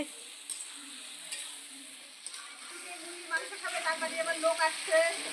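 Chicken meat cooking in a pan over a clay wood-fired stove at a picnic, with a soft sizzle that grows into rhythmic stirring scrapes toward the end, with faint voices in the background.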